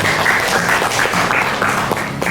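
An audience applauds after a classroom group presentation, producing dense, continuous clapping at close range with a few sharper claps standing out, sustained evenly throughout and no voices above it.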